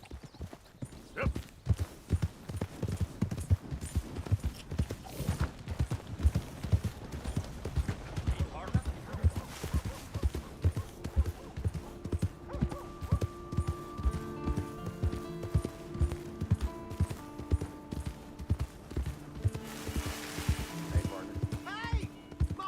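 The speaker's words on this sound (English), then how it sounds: "Hey! My horse!" Horse hooves clip-clop in a steady rhythmic gait in Red Dead Redemption 2, continuous and fairly close, with characters and someone talking over the footfalls throughout.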